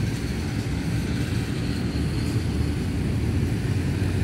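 An X3 Pro/Max drone flies over a sports field, giving off a continuous broadband whirring rush of motors and propellers that stays steady and loud throughout, with no voices.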